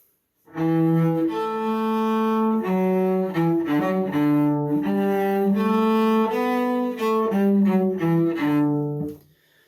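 A cello plays Suzuki Minuet No. 1 from Book 2 in a practice session, a clear sequence of bowed, sustained notes up close, phrase after phrase, with no talking.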